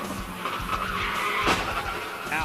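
Race cars at the 2012 Continental Tire 200 sports car race, with loud tire skidding and engine noise and a sharp impact burst as one car collides, heard over a continuous roar of the track.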